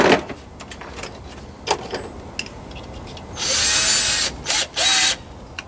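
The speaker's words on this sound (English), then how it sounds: "Drill a hole there and then mark the holes on this and drill them separately." A power drill whirs in several bursts while drilling holes for a truck radio power install, one long run followed by two shorter ones, near and loud, after some quiet clicks and handling noises.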